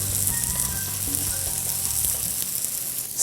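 Salmon skin fries in a pan with a loud, steady close sizzle and crackle, a low rumble of the hob underneath, and a brief shuffle as the fish is turned at the end.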